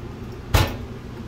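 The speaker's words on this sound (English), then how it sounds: "Big old pots and pans drawer." A single muffled thud as a pots and pans drawer slides open in a 2017 Grand Design Imagine 2950RL travel trailer, close by, against a quiet steady background.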